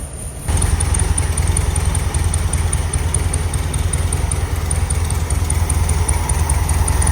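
Air-cooled Volkswagen Beetle engine idling steadily after a carburetor fix, loud and close with an even running drone and no speech.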